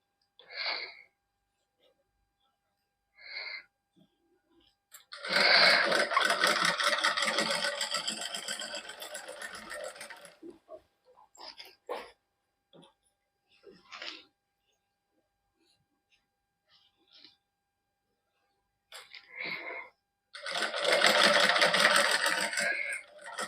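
Domestic sewing machine stitching double lace onto a hand-worked suit with a finishing strip, running in two sustained bursts of steady buzzing with short clicks and pauses between them.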